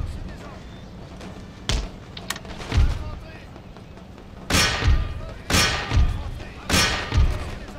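Cannon fire in the Empire: Total War battle lands as a series of deep, booming thuds, several close together, over a steady background rumble of combat.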